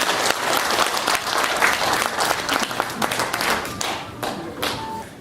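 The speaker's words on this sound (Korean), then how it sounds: "큰 박수 부탁드립니다." An audience in a large auditorium at an anniversary award ceremony gives sustained applause. Many hands clap together close by, with a few distinct sharp claps and thuds, and the clapping thins out toward the end.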